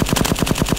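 Rapid automatic gunfire in the Roblox shooter Bad Business, a steady burst of about eight evenly spaced loud shots with no talk over it.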